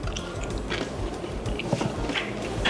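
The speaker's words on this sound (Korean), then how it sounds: "이렇게 소스를 좀 이렇게 발라서 빵을 한번 먹어보겠습니다" Crunchy bites into buttered sourdough shrimp toast brushed with tangy chili sauce, close and moist, with soft chewing between the bites and no talking.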